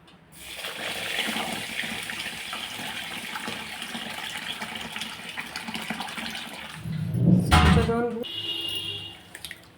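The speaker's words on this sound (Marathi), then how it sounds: "स्वच्छ पाण्याने धुवून घ्यायची" Finger millet being washed in a pot of water, with a steady sloshing, pouring rush that swells louder toward the end before tapering off.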